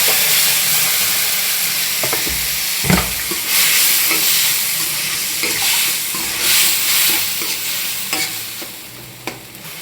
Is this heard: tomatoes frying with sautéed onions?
yes